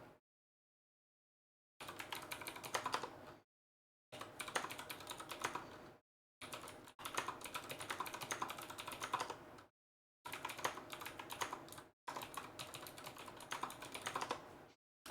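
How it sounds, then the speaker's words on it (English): Computer keyboard typing comes in several long runs of rapid clicking, close and steady, separated by short silent gaps. "you get to hear the clickety clack of my keyboard"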